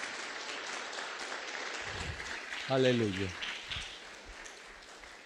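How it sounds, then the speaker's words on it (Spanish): A church congregation claps during worship, a dense rain-like patter of applause running throughout at moderate level, while someone speaks briefly over it in the middle. "Dale ese fuerte aplauso al Rey."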